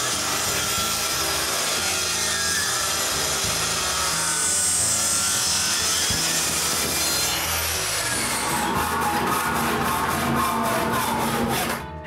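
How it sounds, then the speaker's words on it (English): Hand saw cutting excess wood off a wooden bandsaw frame, a steady continuous rasping stroke close up that grows harsher and more rhythmic toward the end. "I transfer my mark on the back and cut the excess."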